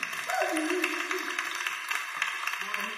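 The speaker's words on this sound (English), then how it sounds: "can you give him a clap?" An audience at a health expo on the Gold Coast breaks into brief scattered clapping, soft and somewhat distant, over a background voice and hall noise.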